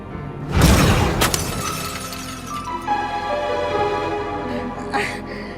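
A glass bottle shatters loudly up close, a sharp crash followed by a few seconds of tinkling, settling fragments with a faint background hum.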